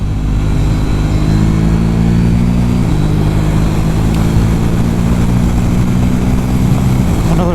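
A KTM 790 Duke motorcycle with new sprockets rides under load, its engine a steady droning hum with a pitch dip as the rider shifts, heard close with wind rush throughout and no talk.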